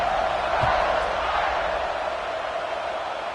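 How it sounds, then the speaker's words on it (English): Football stadium crowd at an NCAA game buzzing after a score, a steady broad roar of many voices filling the whole stretch at a fairly loud, even level. "this crowd is buzzing after that last score"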